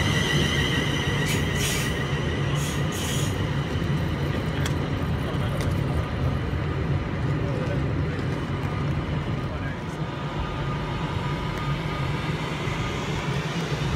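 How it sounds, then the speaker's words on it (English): A Class 350 electric train departs a platform at Milton Keynes Central station with a steady rumbling roll and high wheel squeals early on, while someone talks over it. "350 238 departing platform number 3 for Wolverhampton, no, for Warrington and Northampton only"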